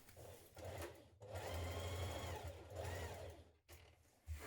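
A sewing machine stitches along a backpack pocket in steady, loud whirring runs, pausing briefly for a turn before starting again, with no talk.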